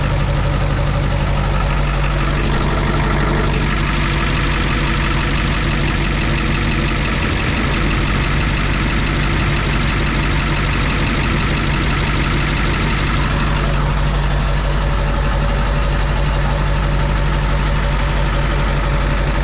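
A Kawasaki Mule utility vehicle's engine idles loud and steady at close range, with a slightly stiff chain running underneath, a constant mechanical drone with a faint rattling texture throughout.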